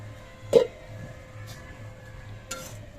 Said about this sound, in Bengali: মোটামুটি তিন মিনিট পর ঢাকনাটা আবার আমি খুলে নিচ্ছি